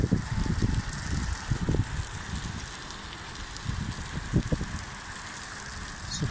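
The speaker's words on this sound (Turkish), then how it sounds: "burası Gazilerde bir cadde ve arabanın üstüne yağmur yağıyor" Rain pours onto the top of a car on a street in the Gazi neighborhood of Diyarbakır, a steady close drumming and rushing patter with low thuds, continuous and fairly loud without talk.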